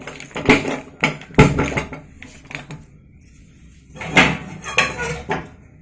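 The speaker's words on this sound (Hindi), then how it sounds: "कढ़ाई बसामा" A metal kadhai (wok) is set onto a gas stove while cooking a saag, giving a few sharp clanks and scraping clatters in short bursts, close by with no talk.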